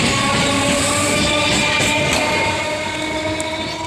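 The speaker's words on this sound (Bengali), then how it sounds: "এই ট্রেনটা ছেড়ে দিয়েছে" A train pulls out of a station with a loud, steady rolling rumble and sustained horn-like tones, easing slightly toward the end.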